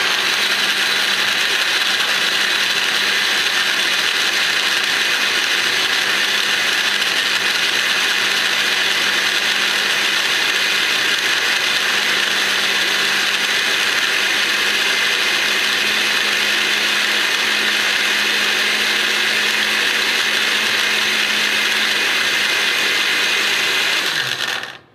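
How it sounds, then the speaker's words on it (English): A blender blending eggs and grinding cheese for spaghetti carbonara, a loud steady motor whir that runs unbroken for about 25 seconds and cuts off at the end. "I'm not gonna talk while this grinds because it's gonna blend the eggs and also grind up the cheese"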